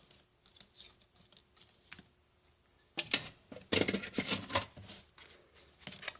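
Scissors trimming patterned paper for card making, a run of quick, light snips and clicks, sparse at first and then denser and louder, close by with no talking.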